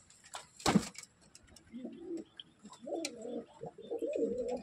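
Pigeons coo in a low, warbling series of soft calls, with a brief burst of wing flaps near the start, among pet pigeons including white and black-and-white Laka and Shirazi breeds kept for sale.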